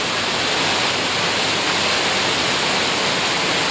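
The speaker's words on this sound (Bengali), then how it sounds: "খুব বৃষ্টি হচ্ছে এখানে, এত বৃষ্টি হচ্ছে ধারণার বাইরে।" Heavy night rain pours steadily outside an apartment, a dense, continuous roar of falling water with no breaks, loud and close.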